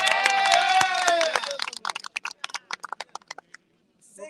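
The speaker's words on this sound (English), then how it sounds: "We can all clap for that." Crowd at a street co-naming ceremony for Little Bangladesh Avenue in Jamaica, Queens, New York, breaking into applause over voices, then thinning to scattered individual claps that stop.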